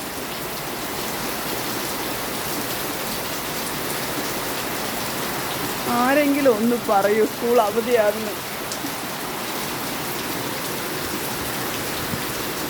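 Heavy rain pours steadily during a storm whose thunder and lightning have eased, a dense constant hiss throughout, with someone speaking briefly over it in the middle.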